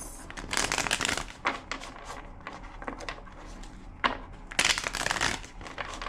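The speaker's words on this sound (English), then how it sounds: "2 more shuffles." A deck of tarot cards being shuffled in several quick riffling bursts up close, with short pauses between each shuffle.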